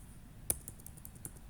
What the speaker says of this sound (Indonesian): tinggal kita pilih tombol tanda panah ke atas di keyboard sesuai dengan urutan yang kita tuliskan